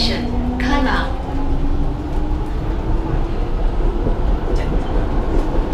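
A Singapore MRT train runs toward Kallang station, with a loud steady rumble and a rising motor whine close around the passenger, while a voice speaks over the noise.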